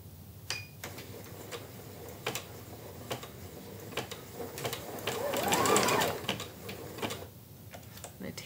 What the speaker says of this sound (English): And now I'm ready to sew.